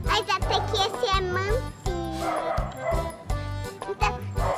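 Repeated dog barks and yips, loud and close, come in short bursts over a cartoon-style soundtrack with a light jingle, with a voice speaking now and then.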